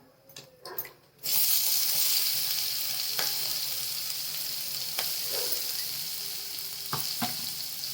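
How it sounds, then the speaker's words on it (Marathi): Ground masala paste drops into hot oil in a pan and at once bursts into a loud, steady sizzle that continues close up, with occasional scrapes of a stirring spoon. A few quiet knocks come before it and no one speaks. "हे चांगलं परतून घ्यायचं याचा कच्चेपणा जाईपर्यंत"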